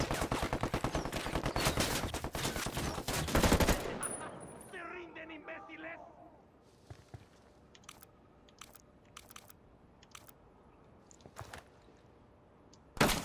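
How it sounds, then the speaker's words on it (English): Enemy gunfire in the video game Narco Roads: a loud, rapid burst of automatic shots fills the first few seconds, then scattered fainter cracks and pops echo over a quiet background. "Oh crap, they're firing at me."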